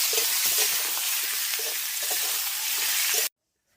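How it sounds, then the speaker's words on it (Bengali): Potatoes frying in hot leftover fish oil with turmeric and salt give a loud, steady sizzle close by, with faint stirring clicks, before cutting off abruptly near the end. "মাছ ভাজার পরে যে তেল ছিল সেই তেলে আমি আলুগুলো আমার ভেজে নেব"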